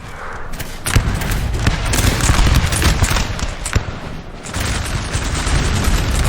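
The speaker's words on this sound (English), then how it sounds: "this battle's getting some regular volleys now" Infantry musket volleys in Napoleon: Total War crackle in dense, overlapping bursts, with sharp individual reports and booming rolls of gunfire sustained loudly throughout.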